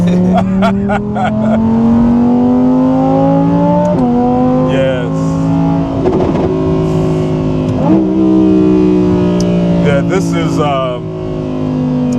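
An Audi R8 GT supercar engine wails as it drives hard, loud rising and falling revs with sharp gear changes, close up with brief voices inside the cabin.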